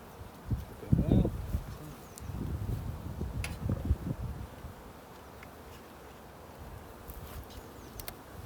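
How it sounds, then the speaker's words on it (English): Calm Buckfast honey bees buzz around an open hive during a spring inspection, a low droning hum near the microphone that swells and fades, with people talking quietly over it. "they're nice calm bees, aren't Yeah, they were buckfast."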